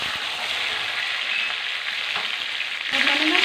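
Onion and tomato frying in a pan, a close, loud, steady sizzle that swells sharply near the end as the tomato goes in.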